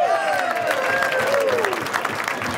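Audience applause at a high school athletic hall of fame dinner, dense steady clapping from a roomful of guests with a faint whistle-like tone drifting over it.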